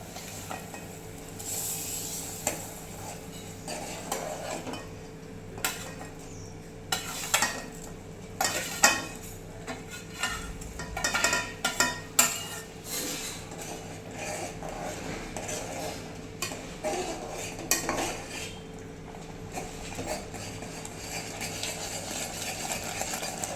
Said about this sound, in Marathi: तो थोडा थोडा करून आपण त्याच्यामध्ये टाकणार आहोत